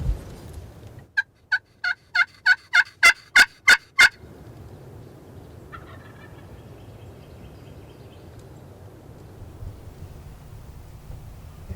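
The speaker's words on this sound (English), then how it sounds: "He's gobbling at everything." A wild turkey gobbles outdoors, a rapid run of about eight clear, rattling bursts at mid distance, then a fainter call later, against wind and a low background hiss.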